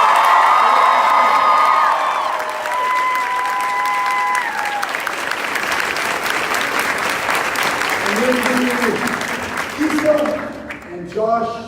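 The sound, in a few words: audience applause for the congresswoman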